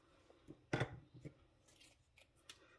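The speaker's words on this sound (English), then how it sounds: "get my small scissors, and we're going to cut this because we don't need that so big, like that" Small scissors snip through paper for a card craft project, one loud crisp cut followed by a few fainter snips, close and quiet overall.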